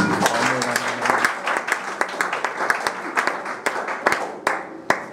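A church congregation applauds during a service in Morocco, with dense, close clapping that thins out toward the end while voices carry underneath.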